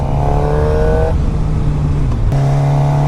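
A black 2016 Suzuki GSX-R 750 L6 engine drones loud and close at steady revs, its pitch dropping briefly mid-clip before settling back, with wind rush under the engine note and no talk.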